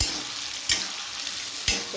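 Marinated soybean chunks fry in hot oil in a wok, giving a bright, continuous sizzle. Two distinct scraping stirs break in about a second apart, and there is no voice.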